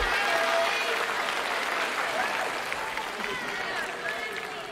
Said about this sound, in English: Let's hear a hearty round of applause for all our participants